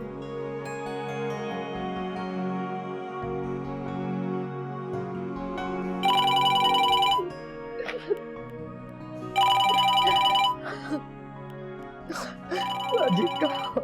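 A telephone rings in short electronic bursts, three separate rings spaced a few seconds apart, over a sustained background music score in a drama scene.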